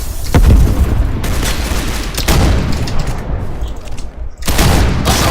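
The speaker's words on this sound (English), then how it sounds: "Opening fire! Grenade!" Dense video-game gunfire with booming grenade explosions, loud and continuous rattling bursts that fill the whole stretch, with a voice shouting over the barrage.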